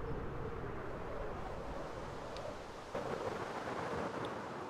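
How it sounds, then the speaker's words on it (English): A Minecraft thunderstorm fills the scene with continuous rain hiss and low, rolling thunder, steady and fairly loud throughout, with no voices. "Oh no, the thunder's still going."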